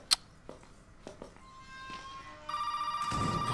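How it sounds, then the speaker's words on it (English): A telephone rings inside a house in the video game Resident Evil 7, a sustained electronic bell tone that swells louder among scattered footsteps and faint room noise. "Phone ringing. Where's the phone?"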